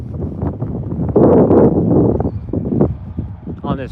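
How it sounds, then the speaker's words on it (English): Gusty wind buffets the microphone in rumbling, roaring bursts, loudest in the middle, with some faint background activity underneath, outdoors at the Air Force Museum's airplane exhibit. "on this really windy day."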